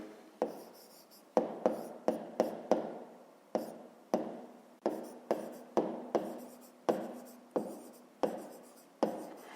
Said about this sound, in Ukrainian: І записуємо, що це площа